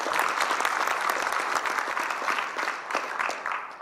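Applause from an audience at a Korean hydrogen-economy forum after a keynote speech, a dense, sustained round of clapping that stays loud and even for several seconds with a faint crowd murmur beneath it.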